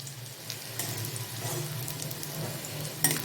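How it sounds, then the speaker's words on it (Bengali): Fried onions go into a fish head curry (katla macher matha) frying in a pan, giving a steady close sizzle with soft stirring scrapes and a few sharper crackles, and no voices. "এই পেঁয়াজ ভাজাটা আমি এর মধ্যে দিয়ে দেব"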